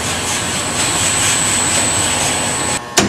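A micropolishing machine working a crankshaft journal gives a loud, steady broadband whoosh with a thin high whine, cutting off abruptly near the end before a short burst.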